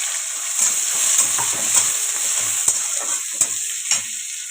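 Onions frying in a pan for dal makhani, a constant hiss of hot oil broken by a series of sharp spatula taps and scrapes from stirring.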